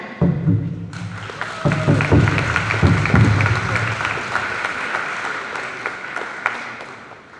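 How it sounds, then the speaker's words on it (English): Applause from an audience at a graduation ceremony, many hands clapping in a broad, sustained wave that stays strong and slowly thins out, with some voices mixed in. "Let's give Rhonda a big round of applause for her speech"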